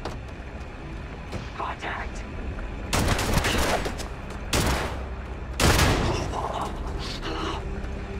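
Gunfire in Starfield crackles in several loud bursts of rapid shots over steady background noise, with a voice talking in between.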